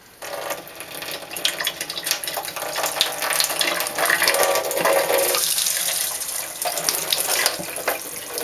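Warm water runs steadily from a tap into a sink for cleaning tarnished copper coins, a continuous close hiss and splash that holds from start to finish with no talk.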